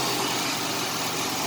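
A 1987 Chevrolet Celebrity Eurosport engine idles steadily up close, a continuous mid-range rumble with a faint unevenness, running on its own with no talking.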